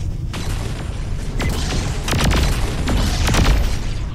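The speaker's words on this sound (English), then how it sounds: "With all these explosions, either it's under attack or it's coming apart" Loud explosions and booms from the video game Saints Row IV, with repeated sharp blasts and bursts over a constant rumbling, close and intense.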